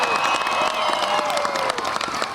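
Students at a school assembly applaud and cheer their teachers and staff, a dense steady wash of clapping with a few shouts from a crowded room.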